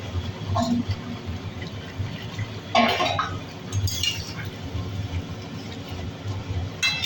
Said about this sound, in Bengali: ঢাকনাটা খুলে নিই।